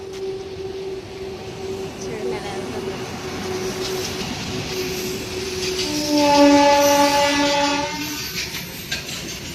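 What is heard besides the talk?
train passing at station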